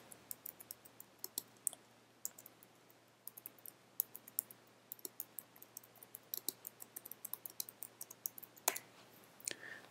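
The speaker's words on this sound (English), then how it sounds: "Next, type in the name of the event." Rapid keystrokes on a computer keyboard as an event name is typed into an online calendar, with a steady run of light, close clicks that thicken toward the end and no talking.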